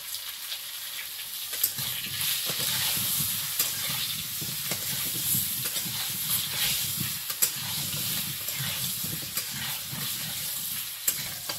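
Potatoes frying in oil in a wok, a continuous hissing sizzle with intermittent scrapes and taps of a spatula stirring, close and steady throughout.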